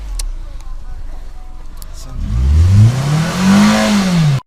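An off-road car engine revs hard after a stretch of low rumbling, rising to a loud, close, sweeping roar that climbs and falls before cutting off.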